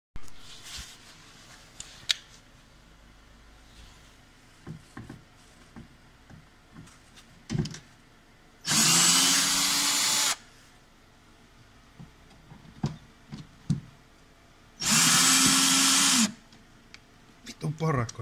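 A cordless power drill whirs in two steady bursts of a second or so each while a mechanic fits mud flaps near a car's brake caliper, with scattered clicks and tool handling between runs.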